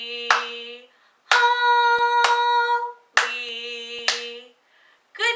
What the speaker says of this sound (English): Get your clapping hands out.